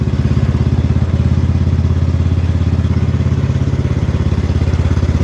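An X T1 Enduro series garden tractor engine runs loud and close after a cold start, a steady rapid chugging putter with mechanical clatter and no voices.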